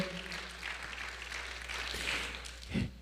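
A church congregation applauding, a broad even patter of clapping that holds steady throughout, with a brief low thump near the end.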